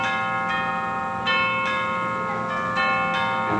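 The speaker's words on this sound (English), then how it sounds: "the first news to the general public of Lincoln's death was conveyed by the melancholy melody of tolling bells" Church bells tolling, several resonant strikes spaced roughly a second apart with long ringing overtones that blend and overlap, loud and close.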